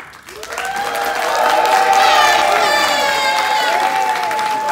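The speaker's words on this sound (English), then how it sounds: "everyone's going to applaud, whistle, clap, because we're going to be loud and proud" Crowd at a Filipino American charity induction ball bursting into applause, clapping, whistling and cheering after a countdown, swelling within the first second and staying loud and sustained in an indoor hall.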